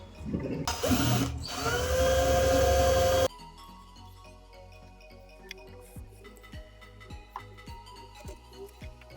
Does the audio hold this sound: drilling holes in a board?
yes